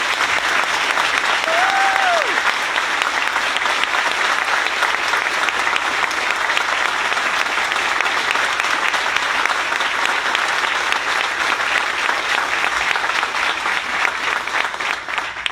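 Sustained audience applause for the Toyota team at the Greensboro-Randolph Megasite announcement, a dense, even roar of many hands from a large crowd that holds steady for the full stretch, with a brief voice near the start.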